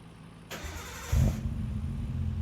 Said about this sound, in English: it sounds like a good, healthy GTR too